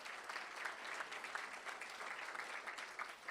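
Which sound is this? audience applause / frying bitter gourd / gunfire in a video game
audience applause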